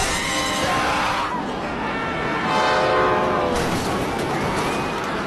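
A subway train rumbles loudly into a station with screeching metallic tones and a blaring horn, noisy and close.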